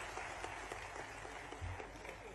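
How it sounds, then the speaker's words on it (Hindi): Audience applause at a capacity-building workshop and training program event in Bhopal, steady dense clapping from a crowd held at an even level throughout, with no voices over it. "आप उसके लिए एक तालियां बजा करके स्वागत करें सर"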